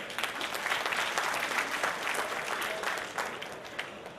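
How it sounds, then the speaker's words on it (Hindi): An audience at a Lions district cabinet installation ceremony breaks into loud, sustained applause, many hands clapping together in a thick continuous roar that holds steady from start to finish. "ताली सर।"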